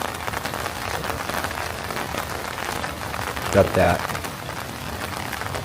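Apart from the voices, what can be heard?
heavy rain falling in Oregon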